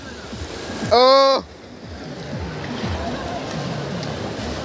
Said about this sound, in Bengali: ভাই ঢেউগুলো আসছে দেখো